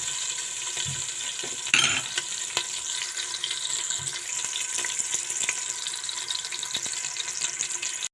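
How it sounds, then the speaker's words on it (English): Ingredients for jollof rice fry in a pot with a continuous bright sizzle, broken by a few louder scraping stirs, one near the two-second mark. "Allow it to fry a little."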